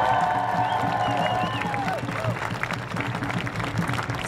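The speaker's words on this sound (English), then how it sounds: "let's give him a round of applause." Crowd at an outdoor rally against the R-word applauds and cheers, a steady wash of clapping with whoops, while a voice speaks over it through a PA.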